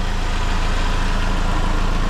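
Saab 9-5 Aero engine idling steadily with a small exhaust leak blowing, a continuous close low rumble with a fine puffing texture throughout.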